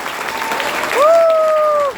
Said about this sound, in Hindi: इनके लिए जबरदस्त तालियां।